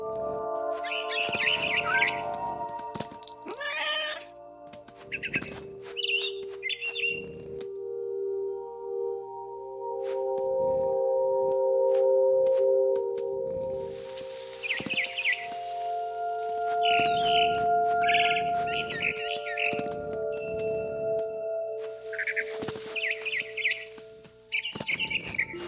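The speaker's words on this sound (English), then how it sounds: "It was a barn swallow going back to her nest." Barn swallow chirps in the video game What Remains of Edith Finch, with repeated short bright tweets scattered through the clip alongside sustained game music tones, fairly clear and close.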